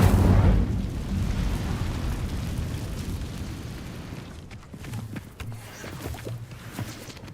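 An Incendio fire spell cast in Hogwarts Legacy bursts with a loud whooshing boom, then fades into rumbling crackles and scattered thuds over several seconds.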